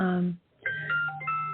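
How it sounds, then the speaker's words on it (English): A phone notification chimes twice during a morning talk recording, with bright tonal dings breaking in over a steady low hum after a short pause. "sorry about that, that's my phone."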